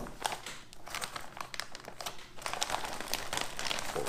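Plastic MRE ration bag from a Chilean military 12-hour ration crinkles and rustles up close as the contents are pulled out, in irregular bursts of crackling that grow busier toward the end.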